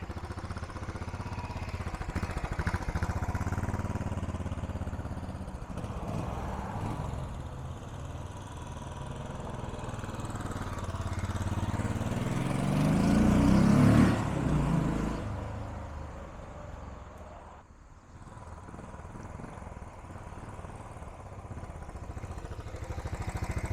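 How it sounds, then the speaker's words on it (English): A 2018 Royal Enfield Classic 500 motorcycle engine runs steadily nearby, swelling louder midway as it revs, then dropping and picking back up. "Sounds like a nice, tight running engine"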